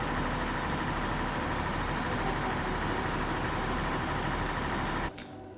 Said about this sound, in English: Engine sounds the same?